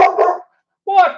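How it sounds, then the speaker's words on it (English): A dog gives two close, loud barks separated by a brief silence, heard alone without talking. "What the hell you barking at?"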